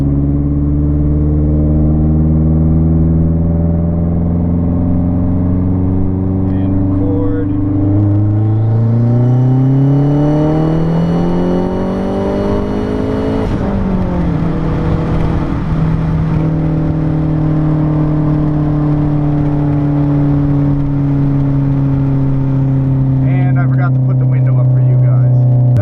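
Mazdaspeed 3 with methanol injection pulling hard at wide-open throttle in third gear from 3000 RPM, engine note rising steadily under load to a peak, then a sharp shift break and a lower steady drone, loud and close inside the cabin.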